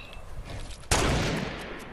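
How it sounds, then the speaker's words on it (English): Fortnite gunfire in a battle royale match: one sudden loud blast bursts in partway through and trails off in a sustained crackling wash of shots, with quieter firing rumbling beforehand. "Hey, you shoot him. You shoot his build."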